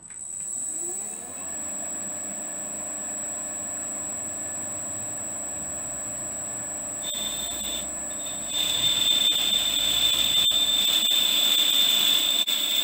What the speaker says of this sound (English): So here we are opening up the bore on the larger bush, nearly to size now.